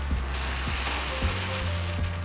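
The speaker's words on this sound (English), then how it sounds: "And straight away, you should hear that sizzle." Steady loud sizzling of chorizo frying in a hot pan, a constant crackling hiss close up with faint scraping knocks underneath.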